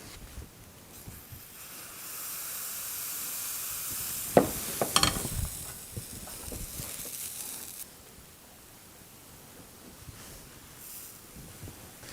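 Batter cooking on a Krampouz electric crêpe maker, a steady soft sizzle that swells for several seconds with a few brief scraping clicks in the middle, then settles back to a faint hiss.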